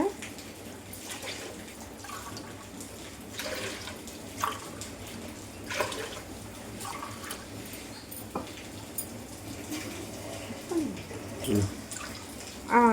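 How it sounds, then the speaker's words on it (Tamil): Water poured from a glass into a cooking pot while preparing pongal, a steady splashing trickle with a few drips and clinks, kitchen background noise throughout. "இதில் நம்ம தண்ணி சேர்த்துக்கலாங்க."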